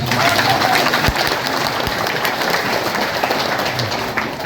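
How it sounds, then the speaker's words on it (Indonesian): Large crowd at a Buddhist Vesak gathering applauds in a broad, dense wash of clapping, with scattered voices and a few sharp louder claps standing out near the start. "tepuk tangan"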